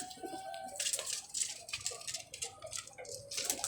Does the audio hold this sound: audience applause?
no